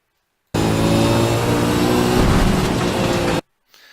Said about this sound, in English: It's just as well just to hit the limiter and then lift.